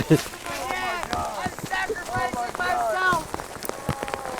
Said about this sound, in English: It's hailing, guys, and we're trying to cook.